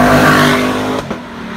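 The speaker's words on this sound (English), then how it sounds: "It really has that exhaust note." A 2018 Lexus LC500 with a naturally aspirated V8 revs loudly up close, its exhaust note holding a strong harmonic drone before the pitch drops off and settles near the end.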